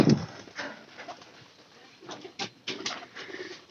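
Pigeons in a loft give a few soft coos and scattered flutters, with brief louder bursts in the second half over a quiet background.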